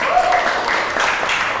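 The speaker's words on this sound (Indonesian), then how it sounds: "Tepuk tangan dulu" An audience claps at a comedy night show for a short burst of steady applause with a few voices mixed in.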